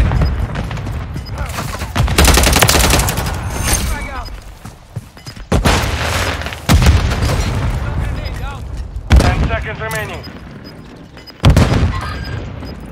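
Grenade blasts and automatic gunfire in Call of Duty Modern Warfare 3 hardcore multiplayer, loud repeated bursts and heavy booms arriving in waves, with players talking over the combat in between.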